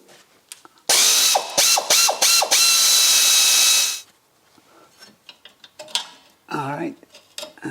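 A ratchet removes a nut on the rear suspension of a BMW Z3: a loud, close burst of rapid metallic clicking lasting about three seconds, followed by quieter clinks and handling noises.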